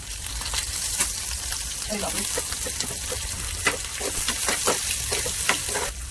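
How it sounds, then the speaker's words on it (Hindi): Steady sizzling of tempering spices frying in hot oil for dal, with crackles and pops scattered through a continuous hiss, close by. "तड़का लगा रही हूँ ना, दाल में अच्छा लगता है"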